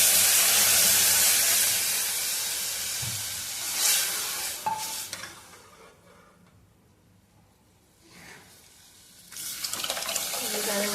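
A sambar tempering hits hot oil in a loud burst of sizzling hiss that dies down to quiet, then flares up again near the end.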